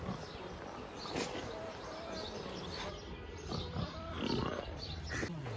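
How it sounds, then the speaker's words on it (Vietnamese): A pig grunts faintly at an open-air museum in Alsace, France, its low snorts soft and fairly distant under outdoor ambience with some voices nearby. "Con heo."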